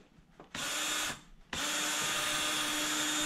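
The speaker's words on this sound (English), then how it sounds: "So I'm just running the drill." A power drill spinning up during speed sensor testing on a 1UZ engine: a short whirring burst, a brief pause, then a longer steady high-pitched run, close and loud.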